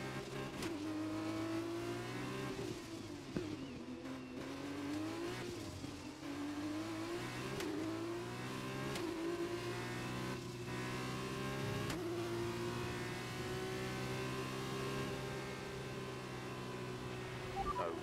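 Race car engines roar through the final lap of a race in a driving video game, a continuous high drone with rising and falling pitch as the cars accelerate and shift, steady and fairly loud with no talk.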